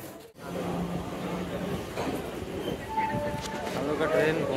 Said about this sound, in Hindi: तो फिलहाल रुकने वाला है ये ट्रेन